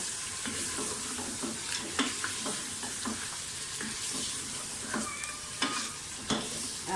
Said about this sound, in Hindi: मुझे मटन को भूनते हुए तकरीबन 5-6 मिनट हो गए